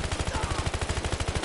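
Rapid automatic gunfire in the 2015 Battlefield Hardline shooter on PS4, a steady train of close, loud bursts firing at an even fast rhythm with no pause, dominating the scene.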